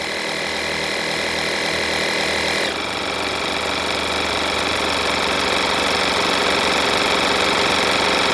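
A Stanley FatMax air compressor runs with a loud, continuous mechanical motor drone and a rapid knocking rhythm, its tone shifting slightly partway through and then carrying on steadily.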